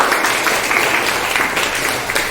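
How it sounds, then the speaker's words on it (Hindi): Students in a Hindi class applaud a classmate's poem recitation, a loud, steady burst of clapping filling the whole stretch. "तालियां हो जाए इसके लिए।"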